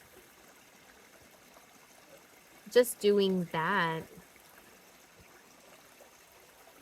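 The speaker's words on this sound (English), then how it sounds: "coming out to a creek and just breathing next to it and listening to the water" A creek flows outdoors as a faint, steady wash of water noise that continues throughout, briefly interrupted by a person speaking a few words.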